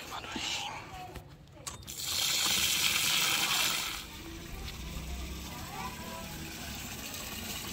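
Water gushes into a large pot set under a tap to soak rice for a big batch of degi biryani, a steady broadband rush that swells loud for a couple of seconds and then runs on more softly, with voices and clinks around it.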